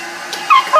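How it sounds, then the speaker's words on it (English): Upset dogs shut in kennels in a flooded house whimper and yip, with two short high whines close by near the end. "The dogs are a little bit upset."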